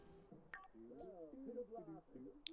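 Phone keypad dialing tones in The Sims 4 video game, a short run of stepped electronic beeps and tones over soft game ambience, ending with a sharp high blip.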